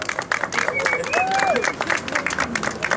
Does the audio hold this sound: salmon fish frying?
no